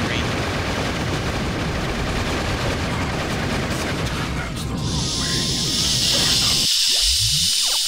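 Heavy gunfire in the Shadow the Hedgehog video game, a dense, loud, continuous barrage that gives way to a bright hiss and a falling whoosh near the end.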